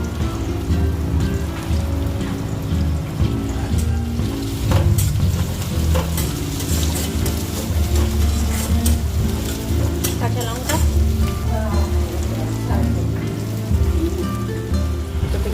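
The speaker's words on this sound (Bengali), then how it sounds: "এখানে পেঁয়াজ ভাজা হচ্ছে" Onions sizzle steadily in hot oil, a continuous crackling hiss close by, with occasional scraping and stirring sounds in the pan.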